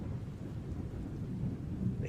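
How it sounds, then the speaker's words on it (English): Rain pattering steadily against a window with low rumbling thunder, a dense, soft, continuous wash of drops and a deep murmur underneath, heard alone without voices. "just the sound of the rain pattering against the window"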